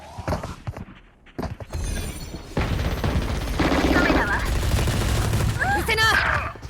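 Bursts of rapid gunfire in the video game Valorant crackle and rattle with mechanical clicks, loud and sustained through most of the stretch after a quieter opening.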